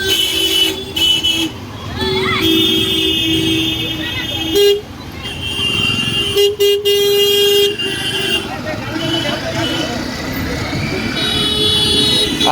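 Rainy city street in Maniktala, Kolkata, jammed with auto-rickshaws: repeated horn toots and longer blasts over a steady engine rumble and road noise, with a person talking nearby throughout.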